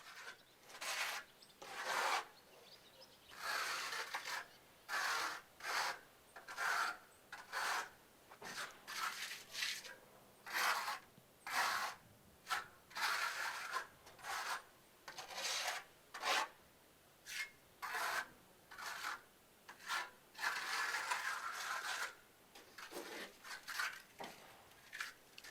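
Lime plaster is troweled as a first coat onto an internal solid wall, giving repeated rasping, scraping strokes in a steady rhythm, close and fairly quiet, with short pauses between passes and no talk.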